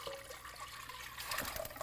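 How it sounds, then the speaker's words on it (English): A box of chicken broth pours into a hot pan on a home kitchen stove, a short close liquid splash and steady trickle that swells slightly toward the end. "I'm putting in a box of chicken broth."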